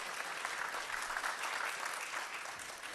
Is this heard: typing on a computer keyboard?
no